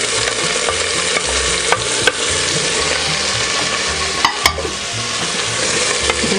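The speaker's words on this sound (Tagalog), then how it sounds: "Lutuin lang din po natin ng konti yung ating sibuyas" Onions frying for humbacua make a loud, close, continuous sizzle, with sharp clacks and scrapes of a utensil against the pan at irregular intervals.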